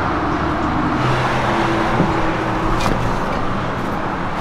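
The diesel engine of a 2022 Chevy Silverado pickup idles in a steady, loud low rumble, close by and continuous, with a faint passing-traffic wash behind it.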